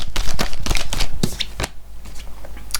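Tarot cards being drawn and handled from a deck during a reading, a run of quick papery shuffles and slaps, close and fairly loud, with no voice over them.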